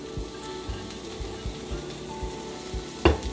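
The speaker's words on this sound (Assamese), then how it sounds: "আৰু অলপমান ভাজি ল'ম" Chopped orange and green capsicum fries with ginger garlic paste in a pan, giving a soft steady sizzle with regular light stirring taps and one sharper clatter near the end.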